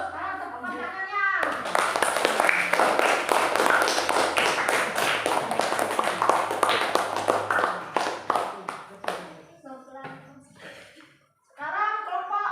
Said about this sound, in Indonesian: Sekarang tepuk tangannya.